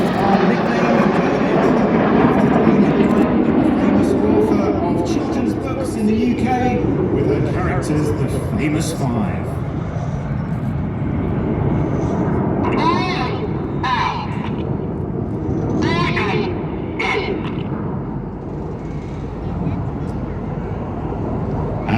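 Red Arrows RAF jets flying an air display trail a broad, steady roar of jet noise that swells and fades at a distance, with a crowd murmuring and some chirpy bird calls over it.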